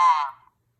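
An Ademco alarm console emits a single short electronic tone, loud and close, fading out within half a second with nothing after.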